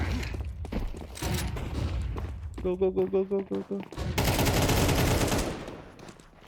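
Rapid automatic gunfire in a Counter-Strike match, loud bursts of shots and a sustained volley near the end, under excited shouting from players.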